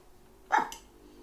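A puppy begging for food gives a single short, close bark, fairly loud against a quiet background.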